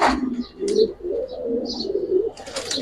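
Several pigeons, including Giribaz, silver Makhra and Musaldom breeds, coo softly in repeated low throaty phrases, close by, with a few faint chirps between them.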